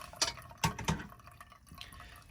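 Warm water splashes onto a pour-over coffee filter in a few short, distinct pours with dripping in between, close and fairly clear.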